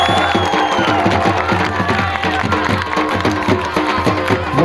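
A crowd cheers and claps at a live kabaddi tournament final, a dense, loud wash of voices and applause that carries throughout with a rhythmic pulsing beneath it.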